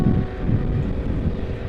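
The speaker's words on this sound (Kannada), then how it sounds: "ನೋಡೋಣ ಗಾಳಿ ಹೇಗೆ ಕೇಳಿಸುತ್ತೆ" Wind buffets a microphone outdoors on a chilly day, a steady low rumbling roar with gusty swells that keeps up throughout, with no voices over it.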